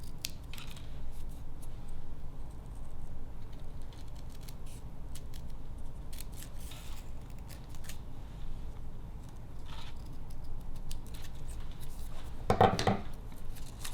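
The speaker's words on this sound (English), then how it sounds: "Then I'll flip it back around and cut into these little leaf pieces" Scissors cut crepe paper into small leaf shapes, a steady close crunching snip repeated under a low room hum. One sharper, louder cut stands out near the end.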